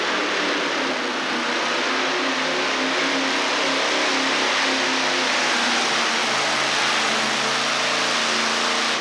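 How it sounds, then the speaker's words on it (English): A big Keith Black Hemi engine in a modified pulling truck roars at a 1987 outlaws truck pull in Murray, Kentucky, a loud sustained high-revving drone holding steady for the full stretch with no talk over it. "this next truck's coming to the sled is a great big Keith Black Hemi"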